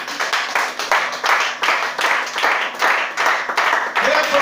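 A congregation at a French-language Christian worship service claps loudly together in a steady, rhythmic beat to acclaim Jesus, filling the room close and full, with voices faintly beneath the clapping.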